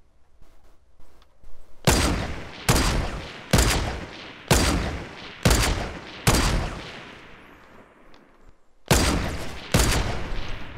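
Rapid gunfire during a shootout in a video game, firing in repeated loud bursts with echoing tails, about eight volleys in a row after a quiet start, close and without talk.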